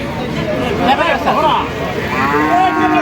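Cattle mooing at a busy cattle market, several loud drawn-out moos close by over a babble of people talking and bargaining.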